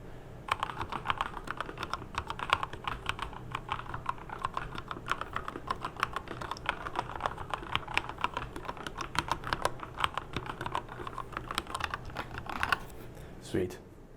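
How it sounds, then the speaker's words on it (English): Rapid, steady clacking of keys on a mechanical keyboard, close up, continuing for several seconds before stopping abruptly. "we're not going to be able to see what I'm typing, but hopefully we can hear the sound"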